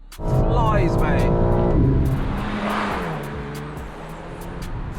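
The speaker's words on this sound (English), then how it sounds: "Flatten the throttle. She flies, mate." BMW G82 M4 accelerating hard at full throttle, a loud engine note rising through the revs with clear harmonic sweeps, then settling into a steady roar; someone talks over part of it.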